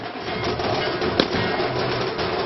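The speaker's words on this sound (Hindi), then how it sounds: "पटाखों का शोर," A single sharp firecracker bang cracks out midway through a continuous noisy crowd roar at a BJP election victory celebration.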